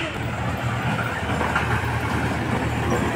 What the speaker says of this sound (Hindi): ये रेल म्यूजियम ट्रेन आ गई।